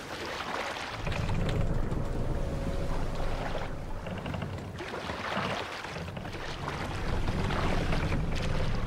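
Longship oars rowing in Assassin's Creed Valhalla give a rushing, steady wash of water and wind, with rhythmic surges of splashing and hull noise rising and falling as the boat moves.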